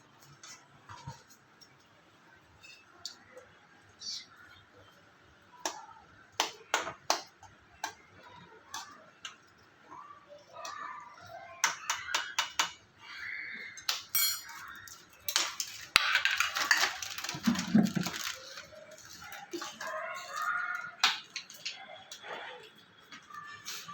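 Maggi noodles being stirred in a pot at home, with scattered clicks and scrapes of a utensil against the pot, an irregular run of close taps and clatter and a brief louder scraping burst partway through.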